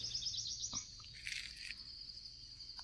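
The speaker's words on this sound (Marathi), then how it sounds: "सकाळी सकाळी पक्ष्यांचो किलबिलाट ऐका घेता" Birds chirp in the early morning at Phonda Ghat, a mountain pass, with steady high-pitched tweets and calls repeating throughout at a moderate distance over a faint background hum.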